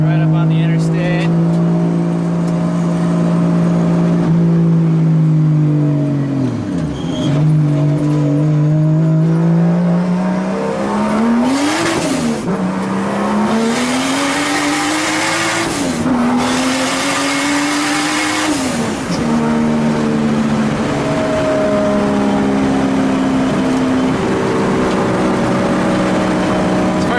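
A 2JZ-swapped Nissan 240SX drift car drives on an interstate, its engine droning loud and close, rising and falling through repeated revs and gear changes over nearly half a minute.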